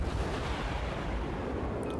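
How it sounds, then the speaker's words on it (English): Heavy naval gunfire from the St. Louis cruiser's main guns firing a full salvo in World of Warships, a dense, sustained low rumble of booms that fills the whole stretch without pause. "Another full salvo."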